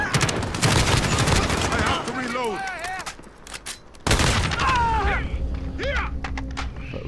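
Assault rifle gunfire in the video game Modern Warfare: dense rapid bursts of shots crackling loud and close, broken by brief pauses, with game effects chirping over the firing.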